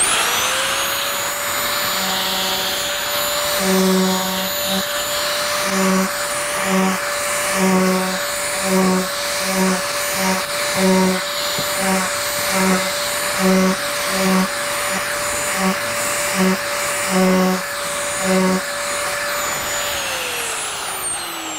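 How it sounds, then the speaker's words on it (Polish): An angle grinder fitted with an eccentric reciprocating chisel attachment runs steadily with a high motor whine, joined by a rapid, rhythmic hammering chatter that pulses through most of the clip before winding down. "To jest zwykła szlifierka kątowa, wyposażona w przekładnię mimośrodową, która powoduje ruch posuwisto-zwrotny"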